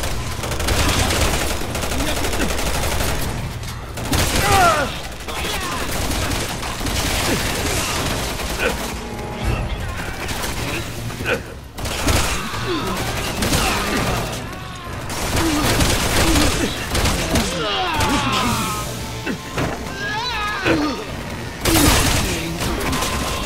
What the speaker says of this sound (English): I'm taking a little fire here!